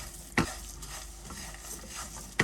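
Nuts, sesame seeds and chia seeds are stirred into a granola mix in a pan over low heat, giving a steady scraping hiss broken by two sharp knocks of the utensil against the pan.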